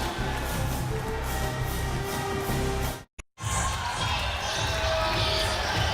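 Crowd murmur fills an arena as blue-shirted Creighton fans arrive for a college basketball tournament game at the Paradise Jam on St. Thomas, U.S. Virgin Islands, a steady broad roar broken by a brief near-silent gap midway.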